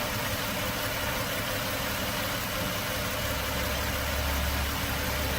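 A car engine idles while running on only three cylinders. It gives a steady, dense mechanical hum with a low rumble that swells slightly near the end, and no one speaks.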